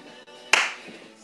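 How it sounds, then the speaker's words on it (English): A fitness instructor gives a single sharp hand clap, loud and close, in a quiet room with a short ring of reverb after it. "So you'll hear me clap."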